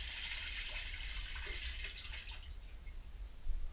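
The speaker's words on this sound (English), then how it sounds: "just take the cover off once more and just pour it out" Rinse water pours out of a Thetford 260B portable toilet tank in a steady splashing rush, a soft continuous hiss with small gurgles, fairly faint and with no voices.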